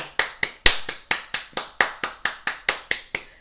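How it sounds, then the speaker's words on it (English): About a dozen single hand claps ring out in a steady, even rhythm, each one sharp, close and distinct, with no other sound between them. "give God a big old hand clap, y'all"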